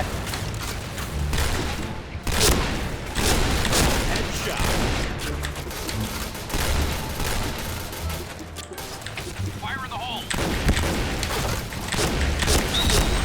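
Shotgun blasts in the Point Blank video game, with repeated sharp booms and mechanical clatter over dense game noise, and a short gap around the middle.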